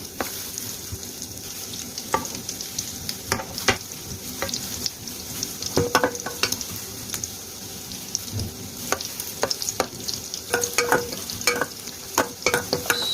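Floured food, a mixed vegetable omelette, fries in a pan of oil with a constant close sizzle, broken by irregular sharp pops and spatters that grow busier toward the end, with no voices.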